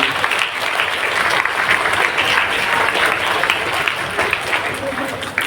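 Loud, sustained applause from an audience at a mothers' honoring ceremony with the Governor as chief guest, dense steady clapping filling the whole stretch with some crowd murmur underneath.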